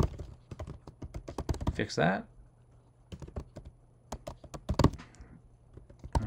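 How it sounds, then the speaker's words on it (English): Someone types on the keyboard of a new M1 Mac, with bursts of close, crisp key clicks in an uneven rhythm. Someone speaks briefly between the runs of typing. "I'm still getting used to my new keyboard on this M1. It's the keys are slightly different than my last one, so I'm typing the wrong keys sometimes"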